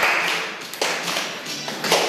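Young baseball players clap their hands while dancing in a rain-delayed dugout, giving a few sharp, close claps at an uneven rhythm over a busy background.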